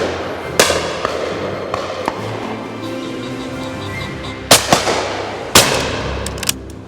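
A William Powell Perdix shotgun fires at a game shoot, with two sharp, loud reports standing out over steady outdoor background noise and a few fainter distant cracks.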